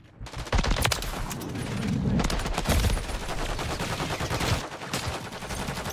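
Nonstop gunfire in Call of Duty Modern Warfare 3 multiplayer, with loud automatic bursts and overlapping shots packed tightly together, firing almost without pause from start to finish.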